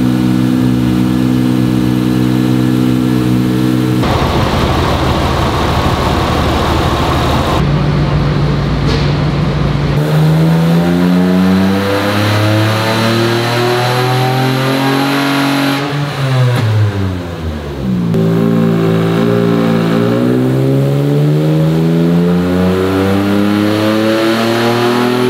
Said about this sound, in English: now we're down at the dyno to dial this engine in.